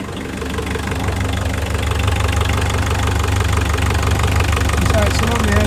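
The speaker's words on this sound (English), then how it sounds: "It might be a bit noisy because the engine's on" The engine of a Bacchus 44DS boat idles steadily, a loud low rumble with a constant mechanical knock and vibration throughout.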